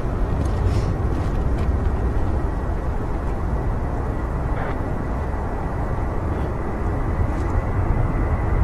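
Heavy jet airliners at Manchester Airport, a dense, continuous engine roar rumbling at a distance and filling the whole stretch with little change, no talk.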